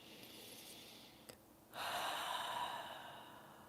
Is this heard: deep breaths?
yes